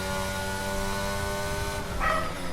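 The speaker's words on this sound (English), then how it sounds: "I apologise for the barking as well." A dog barks once outside, a short burst near the end, heard faintly over a steady electronic engine drone from a racing game.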